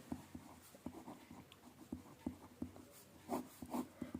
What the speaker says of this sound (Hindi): अब हम लिख लेते हैं टू प्रूफ।